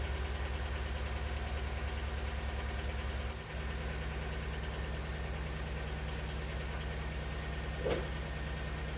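A 2002 Honda Civic engine idling after a misfire repair with oil in the spark plug tubes: a steady, close mechanical hum with an even, low pulsing rhythm and a brief dip partway through, no talking.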